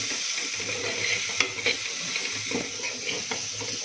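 Bajra millet khichdi with ghee is stirred in a pot, a continuous close hiss and simmer with soft scraping strokes and a couple of light clinks of a spoon against the pot, no voices.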